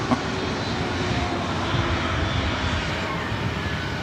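Jet engine roar from a Delta Airbus A321neo at LAX, a steady, loud broadband rumble and whine holding for the full four seconds with no talk over it.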